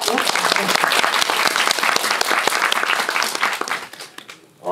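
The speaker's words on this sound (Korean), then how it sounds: "박수 부탁드릴게요." Applause from an audience at a Korean film talk event, dense steady clapping filling most of the clip before fading briefly near the end, with a voice speaking over it.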